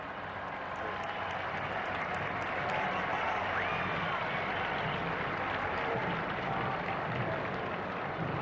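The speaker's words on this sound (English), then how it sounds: "Let's just listen to the cheers of the crowd for a moment." A large crowd cheers and roars continuously at the election of the new pope, Robert Prevost, a broad, dense wash of distant voices with scattered clapping, steady and sustained throughout.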